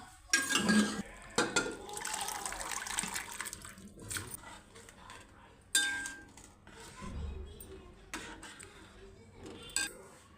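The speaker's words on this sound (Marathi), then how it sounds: "चणे घालून घ्यायचे आहेत जे आपण शिजवले होते" Cooked chickpeas tipped into a pan of masala for a Maharashtrian chana usal, with wet plops, scraping of a spoon against the pan and sloshing liquid in short bursts.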